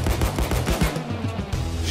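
Rapid bursts of gunfire from Payday 2 snipers, loud and dense, with repeated heavy thuds packed together over two seconds.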